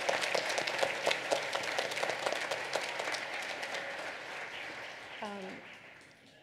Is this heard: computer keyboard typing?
no